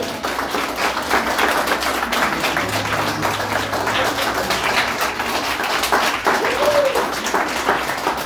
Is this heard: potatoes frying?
no